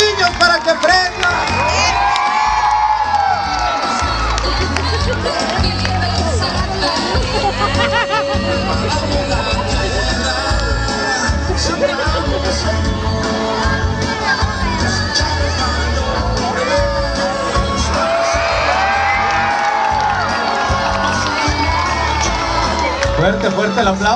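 A dense crowd of more than six thousand, many of them children, cheers, whoops and shouts at a Christmas tree lighting in a town plaza. The roar is loud and continuous, with voices rising and swelling throughout.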